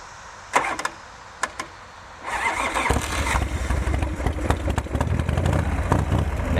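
A 29-year-old motorcycle gets a few sharp mechanical clicks before its engine cranks and catches on a cold start, settling into a close, steady, uneven idle.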